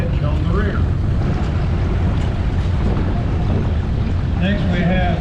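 A Farmall tractor fitted with power steering and a fast hitch rolls through a parade at a steam and gas engine show in Pawnee, Oklahoma, its engine a steady, close rumble blended with gusty wind noise.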